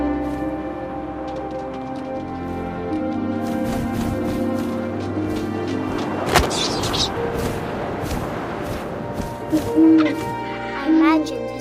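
Owl hooting in the video game What Remains of Edith Finch, soft hoots rising briefly near the end over a steady ambient bed of wind and game sound with a dull thump midway.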